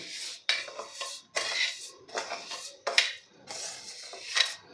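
Lemon sharbat premix mixture spread across a metal plate, a string of scraping and clinking strokes of a spoon against the plate, close and moderately loud, in irregular bursts with short pauses between.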